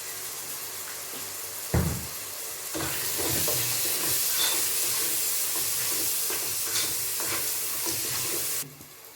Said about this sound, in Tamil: தக்காளியோட நாம் எடுத்து வச்சிருக்க மிளகாய் பொடி, மஞ்சள் பொடி, கொஞ்சம் உப்பு சேர்த்து இதை நல்லா வதக்கி எடுக்கலாம்